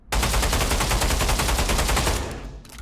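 Rapid automatic fire from an M4 rifle in the video game Pavlov Shack: a dense, loud burst of evenly spaced shots lasting over two seconds, then cutting off into a brief fading tail.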